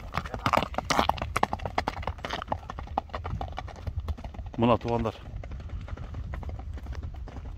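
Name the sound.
horse galloping, hoof clip-clop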